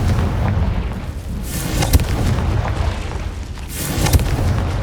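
Confringo blasting spells explode in Hogwarts Legacy, with booming blasts near 0.5, 2 and 4 seconds over a dense rumbling roar of crackling debris.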